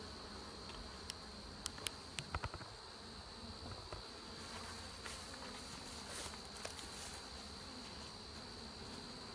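Honey bees droning steadily around a struggling hive, a continuous close buzz with a few sharp ticks and knocks near the start, recorded outdoors on a phone.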